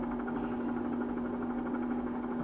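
Bell 47 helicopter engine in a flight simulator during low-level hover, a steady droning hum with a constant low tone and a strong rotor buzz, unbroken and fairly loud throughout.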